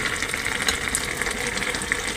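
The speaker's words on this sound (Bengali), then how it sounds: "একটু জল দিয়ে দিয়েছি" Water pours steadily into a hot cooking pan of gourd leaves and vegetables, a close, even hiss and splash with sizzling underneath, no talk.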